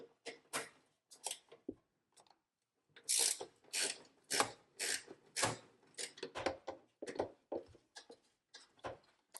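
A flex-head ratcheting wrench loosens a small 10 mm metric bolt, giving quick bursts of sharp ratchet clicks in a stop-start rhythm, close and clear with no talk.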